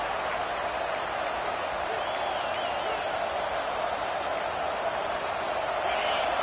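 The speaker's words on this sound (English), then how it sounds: "Listen to this crowd just shaking the girders of this place, trying to help their defense" A football stadium crowd roars in a steady, dense wall of cheering to help their defense, loud and continuous throughout with faint whistles above it.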